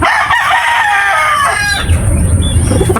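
A Kanawayon gamefowl rooster crows loud and close, a long drawn-out call that fades into quieter clucking and rustling at the end.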